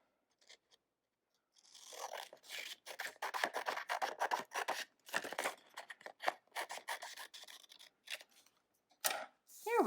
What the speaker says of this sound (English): So I'm going to cut right on this line here that's made by my folded